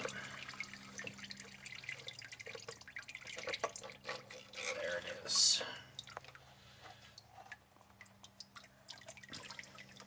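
Transmission fluid from a Dodge Dakota drains into a pan with a soft, steady trickle and patter of drips, faint and close, while someone talks intermittently nearby.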